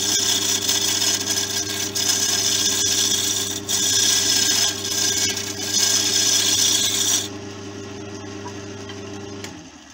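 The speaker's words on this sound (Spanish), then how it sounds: "Esto con la herramienta horizontal es raspar." A wood lathe scrapes soft-grained wood with a tool held horizontally, giving a steady, close rasping over the motor's hum. The scraping stops after about seven seconds and the motor keeps running alone.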